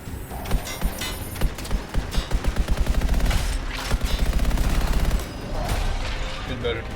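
Rapid bursts of gunfire from the video game Anthem, a run of sharp evenly spaced shots that speed up into a dense stream and then stop, alongside game sounds with a voice talking.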